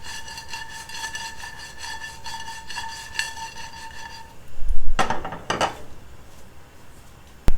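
Soy curls seasoned with smoked paprika being tossed in a pan, giving a steady scraping, rubbing clatter against the metal for several seconds before a couple of louder sharp shakes and knocks near the end.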